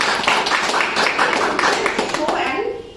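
An audience claps at a product demonstration, a dense, steady patter of many hands close by that tapers off in the last moments.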